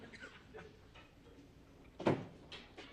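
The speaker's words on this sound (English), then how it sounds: "Close the door." An office door shuts with a single solid thump partway through, amid quiet room noise and faint voices before and after.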